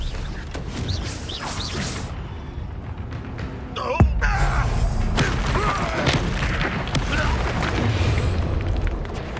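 A Confringo fire-blast spell explodes in Hogwarts Legacy combat: a sharp, heavy boom lands mid-clip amid rumbling battle effects and crackling bursts, with in-game character voices shouting around it.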